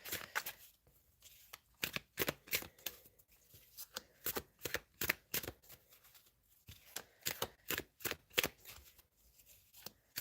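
Tarot cards being shuffled by hand, a run of quick crisp riffling bursts in an irregular rhythm, close and fairly quiet with no talking.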